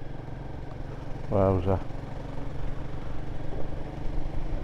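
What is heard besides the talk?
Royal Enfield Guerrilla 450 motorcycle riding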